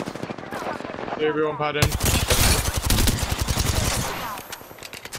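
Sustained automatic gunfire from the video game Apex Legends rattles in fast, loud bursts after a short lull, with players talking over the shooting.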